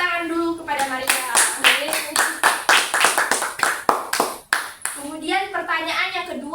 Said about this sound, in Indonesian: beri tepuk tangan dulu kepada Maria.